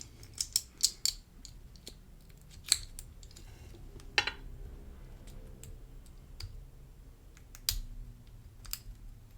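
Picking an Abus lock with spool pins using a Grav pick: scattered sharp metallic clicks and ticks, some in quick bursts and others spaced apart, close and quiet, with no talking.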